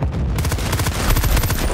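Rapid bursts of gunfire from hip-firing in the video game Bad Company 2 on the Panama Canals map, a dense fusillade of close, loud shots repeating in quick rhythm with booming low thumps throughout.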